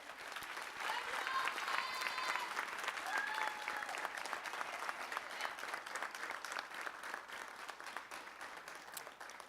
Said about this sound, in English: give your family members and your friends a hand clap